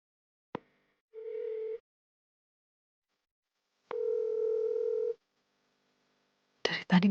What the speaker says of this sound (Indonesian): Dari tadi Mas Arga gak angkat-angkat telepon aku sih